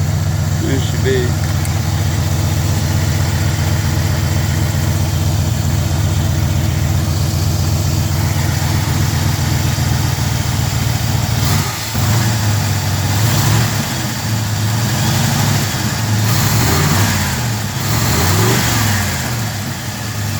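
A 1946 Chevrolet engine fitted with a Rochester Quadrajet 850 carburetor idles after a cold start, a steady close rumble that dips briefly and then surges in a few light revs.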